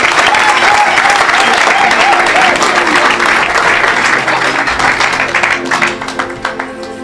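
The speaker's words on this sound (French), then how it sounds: "Put your hands together for the Lord." A church congregation applauds loudly and continuously, dense close clapping that gradually thins out toward the end, with voices underneath.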